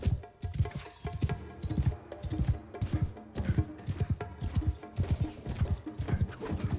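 A horse gallops in Mount & Blade Bannerlord: rapid, rhythmic hoofbeats that thud repeatedly at a moderate level, with an occasional faint whinny beneath them.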